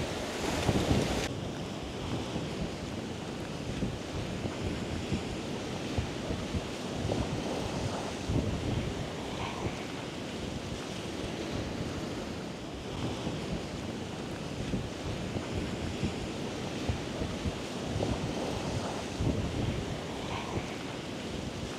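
Ocean waves wash steadily onto the Aruba shore with strong wind buffeting the microphone, a continuous loud roar of surf and gusts with no voices.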